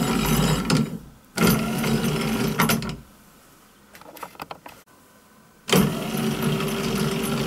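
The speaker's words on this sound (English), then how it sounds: "The DC motor is an old wiper motor from a Volvo" An old Volvo wiper DC motor with a forward and reverse switch drives the carriage of an old lathe, making whirring, geared motor runs that start and stop abruptly, with quieter clicks and rattles during the pause between runs.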